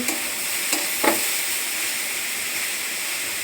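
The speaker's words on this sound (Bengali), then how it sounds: "সব এবার একসাথে ভালো করে ভেজে নেবো।" Egg, cabbage and carrot fry together in a pan with a steady, bright sizzle and hiss, broken by a few stirring scrapes near the start.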